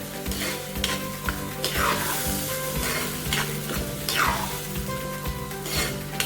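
A spicy chili chutney mixture sizzles steadily in a pan on a low flame while a utensil stirs it and scrapes occasionally, close and continuous.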